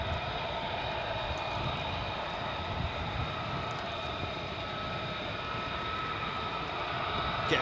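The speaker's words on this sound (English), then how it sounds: "I can hear more jets." F-35 jets at RAF Lakenheath produce a steady, distant roar of aircraft engine noise, a broad continuous rumble with a faint high whine holding level throughout.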